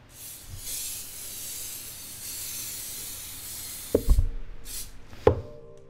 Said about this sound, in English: you start the spray from here all the way to the end so that you can actually have an even coat